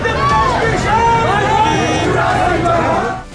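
A large crowd at a political roadshow in Shahjahanpur, India, makes loud, dense babble with shouts and cheers rising throughout, then fading slightly at the close.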